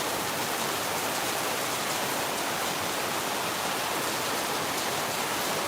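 A heavy monsoon rainstorm pours down in Phnom Penh during the rainy season, a dense, steady roar of rain that stays loud and even throughout, with no voices.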